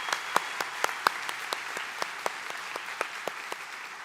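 A thinning round of applause for graduates at a university commencement: scattered individual claps ring out irregularly over a faint crowd background, fairly distant and quiet.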